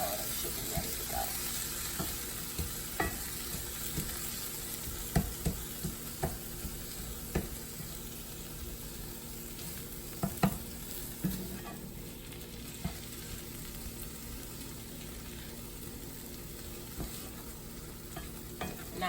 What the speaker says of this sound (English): Now I'm just mixing to make sure that all of the onions are fully combined with all of the spinach.